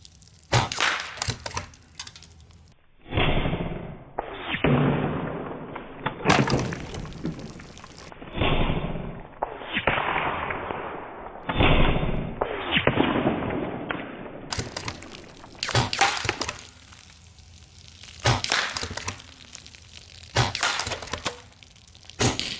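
Rapid shots from the magazine of a Beeman Chief II Plus side-lever PCP air rifle, fired from a rifle rest: a run of sharp, loud cracks at an uneven quick pace, with brief pauses between bursts.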